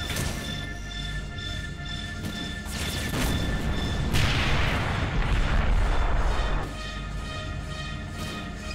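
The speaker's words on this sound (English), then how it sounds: "A German 75mm field gun." Shots from a German 75mm field gun in a wartime video game land as heavy booming blasts over a constant battle din, with a louder, denser stretch of rumbling fire in the middle.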